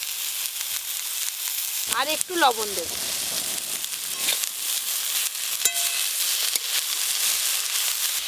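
Greens stir-frying in a pan with fried potato, eggplant and pumpkin give a steady, close sizzle throughout, with a brief spoken remark early on and a light utensil clink partway through.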